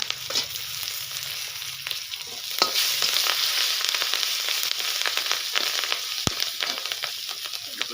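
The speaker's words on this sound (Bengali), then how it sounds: "তারপরে লঙ্কা দিলাম, কাঁচা লঙ্কা।" Green chillies with bay leaf sizzle steadily in hot oil, a continuous close frying hiss broken by light stirring clatter and one sharp utensil tap, with no voices.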